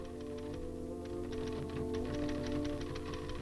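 Rapid typewriter keystrokes clatter in a steady, continuous run over a background music score, close and fairly loud, with no speech heard.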